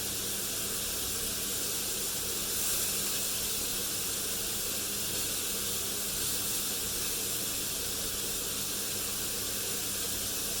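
Homemade burgers cooking in a pan give a steady, even sizzle and hiss of frying that holds at a constant level, close and uninterrupted, with no voice heard.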